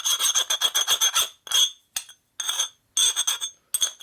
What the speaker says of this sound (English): The grinder takes it off quick, but the file gives you the nice smooth finish you want.